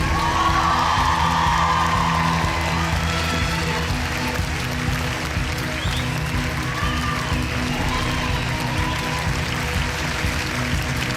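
An audience at a student musical stage show applauds and cheers dancers Solène and Aurélien, with a dense continuous wash of clapping, whoops and shouts that stays full throughout.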